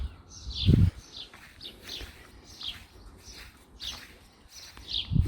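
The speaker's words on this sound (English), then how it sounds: "All you can hear is the birds." Birds chirp and sing in short repeated phrases at moderate distance in a sunny garden in Leven, Scotland, with a couple of low thumps and quiet outdoor ambience.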